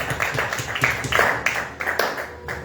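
A church congregation clapping together, steady rhythmic palm claps in a reverberant room, continuous and fairly loud through the whole stretch.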